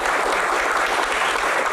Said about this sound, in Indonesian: Tepuk tangan untuk Pak Menteri.